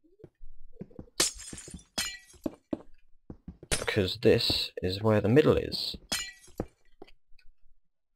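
Glass blocks broken in the Minecraft video game, several short crisp breaking bursts scattered between stretches of someone talking, close and moderately loud.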